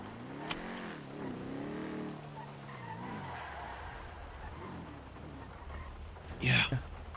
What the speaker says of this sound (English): Oh, I need to move my car.